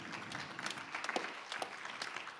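Faint applause from an audience at a public policy discussion, scattered distant claps forming a thin, uneven patter over low room noise.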